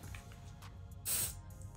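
A short burst of Bath & Body Works fall fragrance mist hisses from the sprayer for about a third of a second, close and fairly loud, set against a quiet low background hum.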